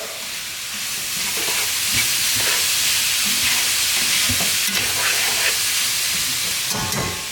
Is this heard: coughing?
no